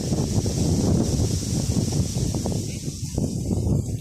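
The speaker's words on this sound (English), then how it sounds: "It's a little bit windy." Steady wind buffets the microphone with a low, gusty rumble and rustle outdoors, constant throughout.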